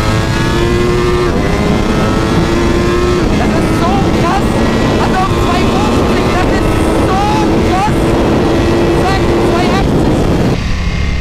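A Ducati Panigale V4S motorcycle engine, a loud continuous roar with rising and falling revs and a shifting pitch throughout, close and dominant, cutting off abruptly at the end.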